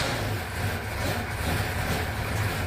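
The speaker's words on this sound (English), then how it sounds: "Drivers, start your engine." A field of NASCAR race cars fires up and idles along pit road at Sunset Speedway, a dense, loud, continuous engine rumble with no voices over it.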